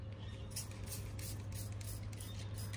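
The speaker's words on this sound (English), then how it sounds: "I'm literally just spraying it and it's starting to get all that grease and stuff caked up." Diluted degreaser cleaner is sprayed onto greasy, caked-up grime in rapid bursts of hissing spray over a constant low mechanical hum, close and moderately loud.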